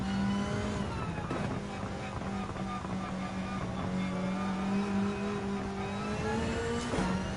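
Race car engines drone and rev steadily at Suzuka in Gran Turismo 7, a Group 2 car battling a GT500 race car, with sustained loud engine tones rising and falling through gear changes and a brief tire squeal.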